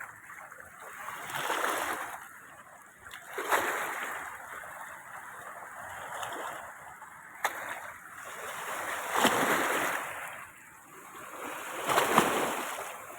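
The Kaveri River at Erode rushes in slow waves, swelling and receding every few seconds, with a constant high insect-like hiss above; no talking.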